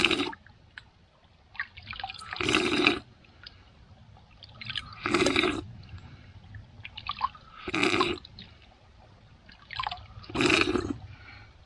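Cold water is drunk with bare hands outdoors on a foggy day during wilderness survival, producing four loud, evenly spaced bursts of slurping and splashing over quiet forest ambience.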